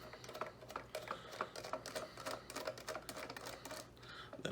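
A screw being backed out of a Retro-Bit Power Stick arcade controller during a teardown: rapid, close, crisp plastic ticks and small clicks in a steady ratcheting patter, with no talking.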